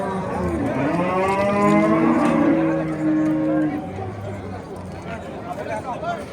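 An Angus cow lets out a long, loud moo up close at the Oqdaryo Yangiqurgon livestock market, rising then fading, with people chattering faintly in the background.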